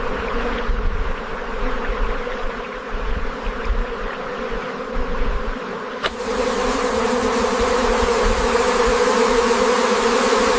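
A swarm of bees in a Stone Age wilderness setting gives a dense, continuous buzzing drone that swells abruptly louder and fuller partway through, with no talking.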